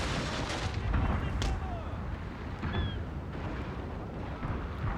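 Naval cannon fire from warships in the Napoleon Total War strategy game, a continuous rumble of heavy booms and distant blasts layered into a low roar, with someone talking over it.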